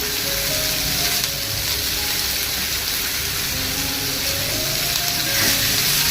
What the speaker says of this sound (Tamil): ஒரு 4 வெங்காயம் கட் பண்ணி வச்சுருக்கேன். அதை தாளிக்கணும். நல்லா வதக்கிக்கலாம்.